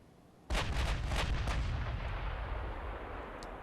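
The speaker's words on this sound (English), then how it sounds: "Right now we're firing HE shells for some reason." Heavy naval guns fire high-explosive shells in the warship game Ultimate Admiral: Dreadnoughts: one sudden loud boom from near silence, a rumbling roll, then a long fading tail of echoes.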